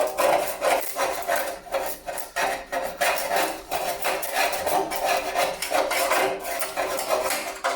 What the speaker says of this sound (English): So I'm going to scrape that.